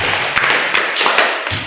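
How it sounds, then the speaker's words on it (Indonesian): A classroom group claps together in a steady burst of applause for a good exam score, dense overlapping hand claps held at an even level for nearly two seconds with a few sharper slaps poking through. "Beri tepuk tangan untuk nilainya sudah bagus."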